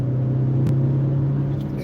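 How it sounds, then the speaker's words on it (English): A car engine hums steadily as the car begins to pull away on a road, a close, even low drone with no voices throughout. "You can tell by the sound of the motor, we're starting to move."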